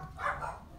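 Dogs barking briefly at a passerby on a nearby road, a short burst of one or two barks, moderately loud and close, with no talk.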